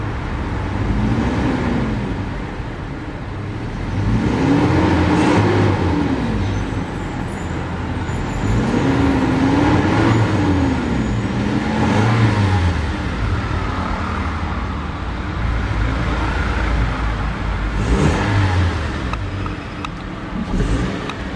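A 2018 Toyota Land Cruiser Prado engine revs several times, each rise and fall of the motor heard nearby over a steady idle and some background road noise.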